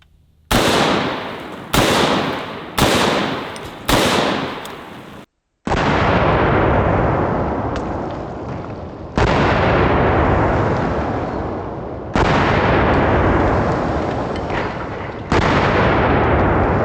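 A .50 Beowulf rifle fired at 2-liter bottles: eight loud, sharp shots, four quick ones and then four more spaced out, each ringing with a long echoing decay outdoors, no talking.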